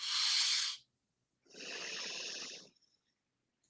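A slow, deep breath drawn in through the nose during a calming breathing exercise, a soft airy rush, then a second, fuller breath a moment later, close and quiet with no talking.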